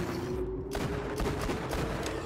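Rapid gunfire bursts in the VR shooter Borderlands 2, a dense run of loud overlapping shots with no pauses and no voices.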